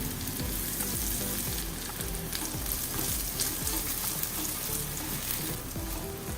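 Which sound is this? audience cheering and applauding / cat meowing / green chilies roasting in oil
green chilies roasting in oil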